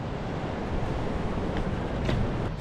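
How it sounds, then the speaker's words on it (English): Rough ocean waves smash against the rocks of a jetty, a continuous close roar of surf with wind buffeting the microphone and no voices. "The waves smashing on the rocks"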